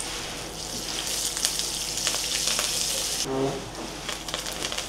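Mustard seeds, cumin, dals, dried chili and curry leaves sizzle in hot oil for a South Indian tempering, a steady close crackle with bursts of popping and a brief spatter partway through.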